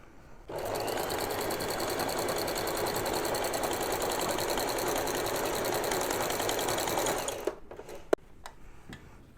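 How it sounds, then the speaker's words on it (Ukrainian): Household sewing machine fitted with a walking foot stitches through six layers of denim, a steady fast mechanical whir of rapid needle strokes running for about seven seconds, then stopping with a few clicks. "можна побачити, що воно прошило і шість шарів джинсу"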